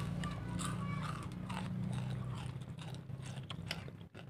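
Crispy homemade sumpia, a fried Indonesian rolled pastry snack, is bitten and chewed close to the mic, with a run of quiet crunching crackles over a low background hum.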